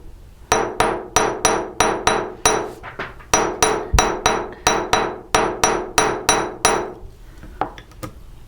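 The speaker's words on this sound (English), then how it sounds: "let's give this the same hammered look that the rest of the links in the chain have" A hammer strikes a metal horseshoe chain link to texture it, giving about seventeen sharp, ringing blows in a steady rhythm with a brief pause partway through, loud and close.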